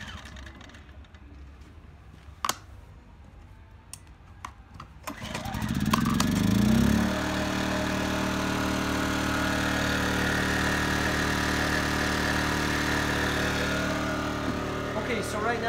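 A small engine powering a work trailer, already warm, fires up after some quiet handling noises, then settles into a loud, steady running drone close by that carries on to the end.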